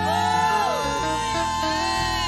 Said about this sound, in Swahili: Ongeza vigelegele tena kwa Yesu.